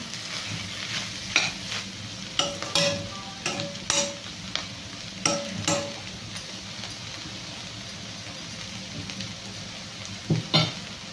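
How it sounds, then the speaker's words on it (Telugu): Beans tempered with chilli powder are stirred in a pan, a spoon scraping in repeated strokes over a soft, steady sizzle of frying, close and fairly quiet. "కారం వేసి కలిసి"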